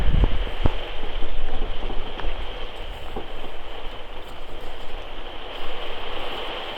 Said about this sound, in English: Can you hear this rain?